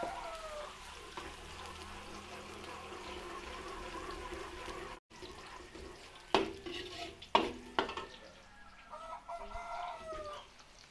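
Garlic sautés in oil in a pan for vegetable lumpia, a steady sizzle for several seconds followed by sharp clanks and scrapes of stirring, with a rooster crowing faintly in the background.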